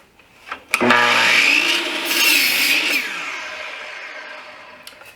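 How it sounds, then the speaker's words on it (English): A saw cuts through maple wood stock in one short pass: a sharp start, then a loud rasping whine that fades steadily as the cut finishes, close by with no talking. "I'm going to start cutting my maple stock"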